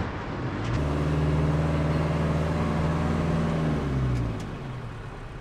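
A van drives along an Iranian motorway, its engine drone holding a steady loud hum with a low tonal whine from inside the cab, easing off slightly near the end.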